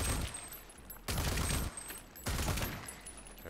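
Shotgun blasts in the shooter game Rage 2, two heavy booming shots about a second apart, each with a long rumbling decay, loud and close with no talking.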